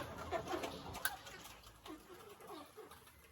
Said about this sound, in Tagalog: Ito yung mga manok.